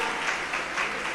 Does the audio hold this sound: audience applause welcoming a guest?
yes